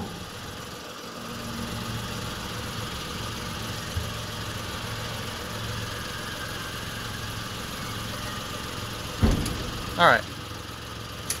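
A 1991 Mitsubishi MiniCab dump truck engine idles steadily with a low, even rumble, and a couple of brief clunks near the end as the bed moves; a voice speaks briefly.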